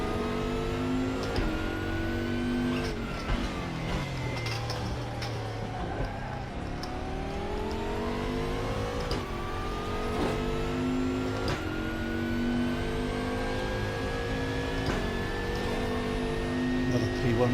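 A P1 prototype race car howls steadily in a multiclass endurance race at Daytona in a racing video game, its engine pitch climbing and dipping through gear changes in one continuous, loud drone.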